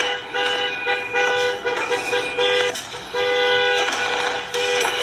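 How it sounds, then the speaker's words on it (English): Car horn honking in repeated bursts on a street, loud and close, with a brief pause between blasts and steady traffic noise underneath. "And she honking the horn."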